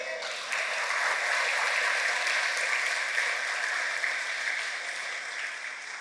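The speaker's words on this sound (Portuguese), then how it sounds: "Aplauda Jesus." A church congregation at a Brazilian worship service applauds together, a broad, even roar of clapping that rises quickly and stays steady and loud before tapering slightly near the end.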